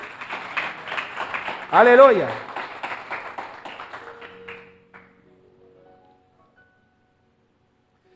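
A church congregation claps during a Spanish-language sermon, with dense, patter-like applause under a preacher's voice and a loud shout over it, fading out after about five seconds.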